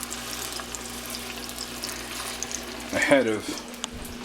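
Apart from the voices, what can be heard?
pork chops sizzling as they are laid in the pan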